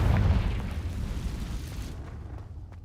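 A Confringo fire spell in Hogwarts Legacy bursts with a heavy, booming explosion that starts loud and close, then rumbles and fades over a couple of seconds with scattered crackling debris.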